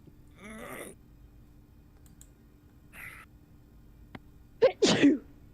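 A single sharp sneeze from one person near the end, preceded by faint breathing and light clicking sounds in a quiet room.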